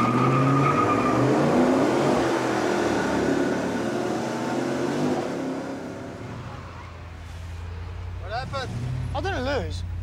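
Cars in a drag race roar past, loud engines and tyre noise dominating at first then fading, with a car accelerating through rising revs near the end while people talk over it.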